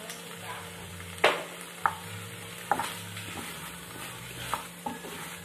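Meat sizzles steadily in a frying pan with soy sauce, a close, continuous hiss broken by a few scattered clicks and taps of stirring.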